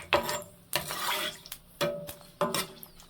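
Dried red chilies dropped into hot oil, giving several short bursts of sizzling and crackling with brief clatters between them, close and fairly loud, no voices.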